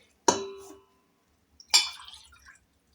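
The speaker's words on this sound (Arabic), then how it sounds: "غنعبر معكم الماء. غندير واحد الكاس" A glass of water for mixing dough, heard as two separate splashing pours, each a short burst of liquid with a bright clink, close and quiet with no voices.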